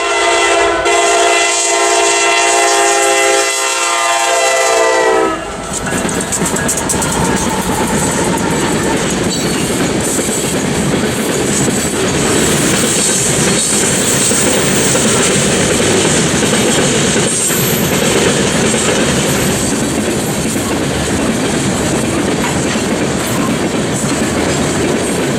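A CPKC freight train rolls past at Powersville, Missouri, loud and close, its horn blaring at the start, then a steady roar of wheels and railcars clattering by without a break.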